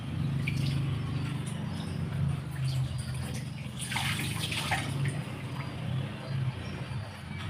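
Water runs and trickles steadily as flying fish soak in a basin or cookware is rinsed, a continuous close splashing wash over a low background hum with no talking.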